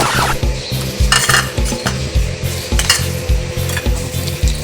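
Utensils scrape and clack rhythmically against a bowl as a Thai salad with river prawns and chopped vegetables is tossed and stirred, a steady, close clattering mix with a few brighter clinks.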